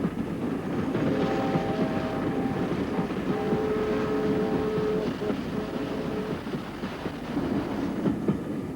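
Victorian R-Class 761 steam locomotive rumbling along the track, a loud, steady, close mechanical roar with faint whistle-like tones drifting over it, no voices.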